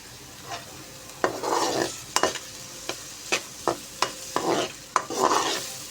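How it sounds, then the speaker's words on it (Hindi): Onions fry in ghee with a low sizzle, while a spatula scrapes and stirs the pan in repeated strokes of close, distinct scraping bursts. "अब हम प्याज ऐड करेंगे और प्याज को फ्राई करेंगे अच्छे तरीके से।"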